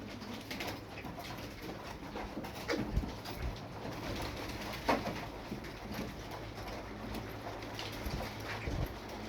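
Tumbler pigeons, a flock of about fifteen, coo softly and repeatedly close by, their low rolling calls rising and falling in gentle bursts over quiet background noise, with no talking.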